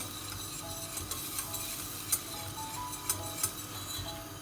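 Lentils roasting in a pot for soup, a soft continuous sizzle with light stirring and a few faint clinks of a spoon against the metal.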